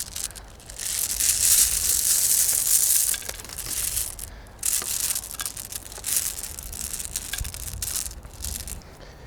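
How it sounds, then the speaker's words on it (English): Glass beads are spread by hand across the compost surface of a scented planter, giving a close, continuous crunching and rattling that surges and eases in waves without talk. "Here I've got some glass beads for an extra bit of dazzle, so I'm just going to put these on the surface now"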